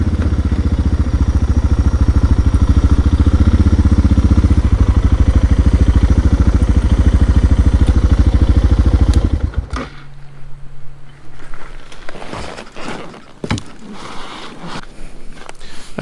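Motorcycle engine running loud and close with rough clatter as the bike is ridden down into a lakeside campsite, then cutting out to quieter scattered knocks and handling noises.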